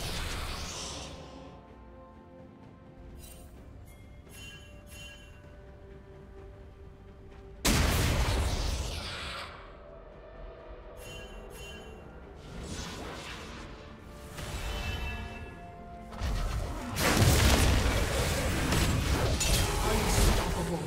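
A turret collapses in a League of Legends match with Rek'Sai and Zac, heard as sharp crashing impacts and whooshing bursts amid busy game effects. Loud hits land around the middle and near the end.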